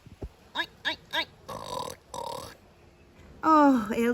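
A voice imitates a pig with short grunting oinks, about four quick bursts near the start, followed by a louder, higher squealing call at the end.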